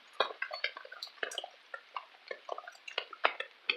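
Rain pours down in an urban permaculture garden, with dense, crisp drips and patters spattering close by in a steady, uneven rhythm.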